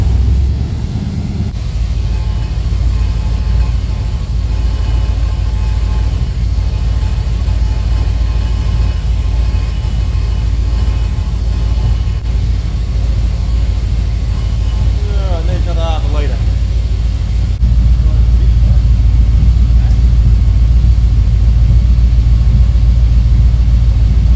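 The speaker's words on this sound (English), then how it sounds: "No, just constantly rev it while you're driving off down the road." A car with a Turbo 400 automatic transmission and a freshly fitted shift kit drives off with its engine held at steady revs, a constant low droning rumble, while people talk over it.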